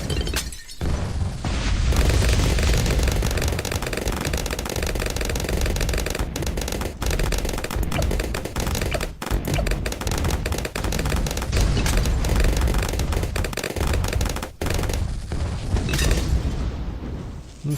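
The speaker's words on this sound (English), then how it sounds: "Does everybody else stop shooting the Moab when it's grabbed?" Towers in a Bloons tower defense game fire nonstop at a MOAB balloon, producing dense, loud rapid popping and shooting effects that run almost continuously with a few brief gaps.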